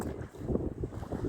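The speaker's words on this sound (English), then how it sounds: "I'm sorry if you can hear much wind" Gusting wind buffeting the microphone beside a river at Lowestoft during sea fishing, a low, uneven rumble that surges and dips throughout this brief moment with no voices.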